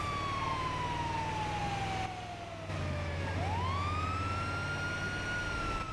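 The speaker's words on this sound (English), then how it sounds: "over these sirens" In a video game roleplay, emergency vehicle sirens wail loudly and continuously, the pitch sweeping down and then rising again, over a low engine drone.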